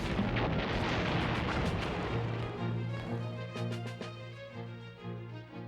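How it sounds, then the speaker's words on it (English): Rumbling heavy artillery fire from First World War German 420mm siege guns, a dense, continuous booming roar with repeated blasts layered over one another, fairly loud and with no voices. "enormous 420mm siege guns that wrecked the thick-walled forts one by one with man-sized shells"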